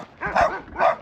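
A small dog in a rural village yaps aggressively, two sharp, close barks in quick succession with no one speaking over them.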